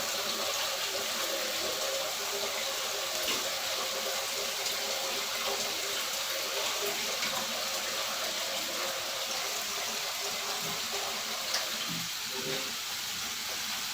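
Water pours steadily into a cooking pot for chicken tinola, a continuous close splashing gush lasting about fourteen seconds with no talking.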